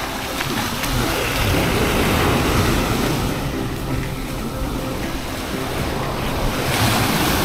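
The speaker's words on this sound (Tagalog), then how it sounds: "Lakas ng alon, guys." Strong ocean waves crash and churn at a beach in La Union, a loud, continuous roaring surf with gusting wind buffeting the microphone, close and unbroken.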